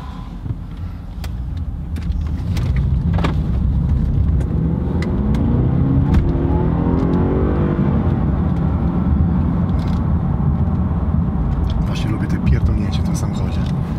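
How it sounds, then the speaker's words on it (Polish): A Turbofury 450 KM car accelerates hard on a test drive, its engine rising from a low rumble into a loud, swelling roar heard from inside, with brief clicks and knocks over the steady drive noise. "Wciskasz gaz i jest tylko takie chwilowe i buch, jak z procy wystrzelony."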